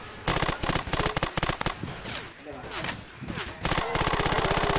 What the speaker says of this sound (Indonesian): Kita ikutin arah tembakan yang mau.